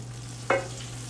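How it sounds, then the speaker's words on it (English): Butter and oil sizzle in a hot pan for potatoes, a brief burst of frying hiss rising suddenly mid-clip over a steady low hum, close and moderately loud. "Y'all hear that sizzling?"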